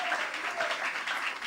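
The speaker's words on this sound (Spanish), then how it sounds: "dale el aplauso al Señor" A church congregation claps steadily together, a dense wash of applause with voices mixed in.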